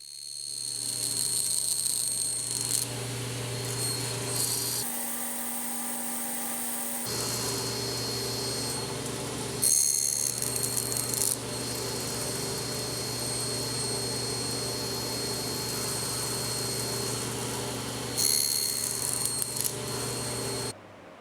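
Japanese carpentry cuts being made in kumiko wood pieces, a steady machine hum and whir with several louder bursts as blades bite through the strips, broken by a short pause, no talking.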